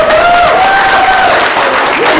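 A church congregation applauds loudly and steadily throughout, dense clapping filling the room, with a faint tone ringing above it.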